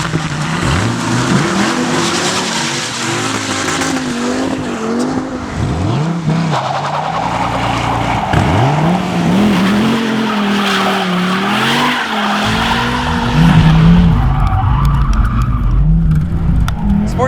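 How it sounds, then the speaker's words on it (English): A car, either an SRT Viper or a Porsche 911 Turbo S, does a big burnout with a loud, sustained engine roar, wavering revs and tires squealing and skidding continuously throughout. "a sports car should be able to do burnouts."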